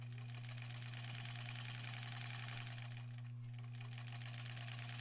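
A sewing machine stitches a granny squares quilt with a rapid, even mechanical whir and a steady hum underneath, pausing briefly midway before running on, close and fairly quiet.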